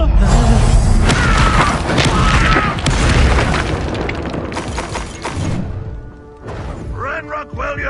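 Hogwarts Legacy spell combat, loud booming blasts, crashes and shattering effects during a fiery Incendio duel, with voices shouting over the fight.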